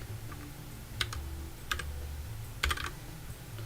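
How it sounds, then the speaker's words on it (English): Typing on a computer keyboard, a few sparse close clicks and clacks over a faint steady hum, with no voices. "you're going to hear clickety clacking"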